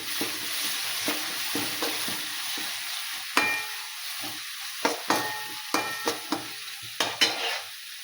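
Tomatoes being stirred in a hot frying pan for a green chickpea stir-fry: a steady close sizzle broken by a series of sharp scraping strokes of the spoon against the pan, with no voices.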